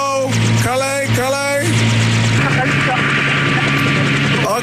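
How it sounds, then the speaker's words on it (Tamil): Helicopter rotor noise thumps loudly and steadily throughout, with a rhythmic chopping beat at first that settles into a continuous whirring drone. "ஹெலிகாப்டர் சத்தம் கேக்குது"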